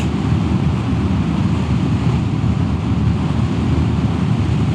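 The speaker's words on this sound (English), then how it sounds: "because we have very strong wind from the front" Strong headwind roars steadily against the microphone while riding a Royal Enfield Classic 350 at full throttle in fifth gear, a dense low rumble of buffeting air swamping everything else, loud and unbroken throughout.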